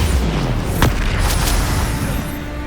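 A Bombarda spell from Hogwarts Legacy erupts in a heavy rumbling blast amid dense, sustained game battle noise, loud and close throughout.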